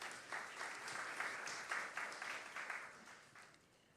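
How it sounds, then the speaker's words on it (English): A conference audience at the Jamaica Diaspora Conference applauds with a moderate, fairly even patter of clapping that gradually tapers off, heard from a distance in a large hall. "I think that deserves a big round of applause."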